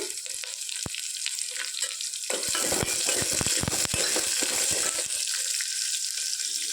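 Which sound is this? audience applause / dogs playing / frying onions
frying onions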